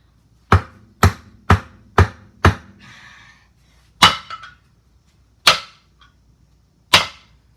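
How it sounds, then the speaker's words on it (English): Stone strikes on stone while a primitive pickaxe is being made, landing as sharp, loud cracks. Five come in a quick steady rhythm, then three spaced-out knocks follow after a short pause. "We're gonna start hitting it on the stone."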